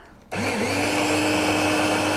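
A blender starts abruptly and grinds pistachios toward pistachio butter, a loud, steady motor whine with a brief pitch rise at spin-up and constant churning that runs on without pause.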